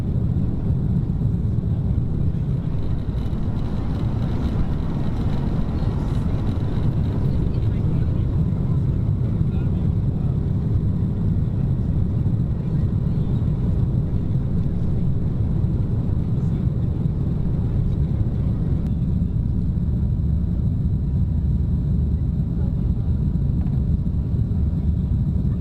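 Qantas Airbus A330-200 airliner taking off at night on runway 06, heard from inside the cabin as a steady, loud low-frequency engine roar and rumble that holds throughout.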